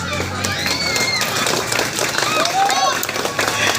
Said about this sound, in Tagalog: bakit di po natin sabay-sabay hiyawan at palakpakan?